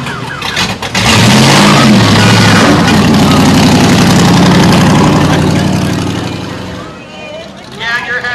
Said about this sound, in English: Driving in his Cobra, Gary Bukowski.